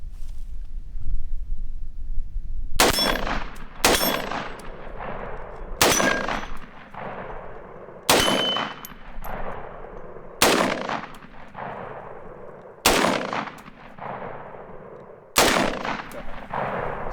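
Seven sharp, loud rifle shots from a 7.62x39 rifle fitted with a reflex sight, spaced one to two seconds apart, each cracking outdoors and trailing off in a brief echo.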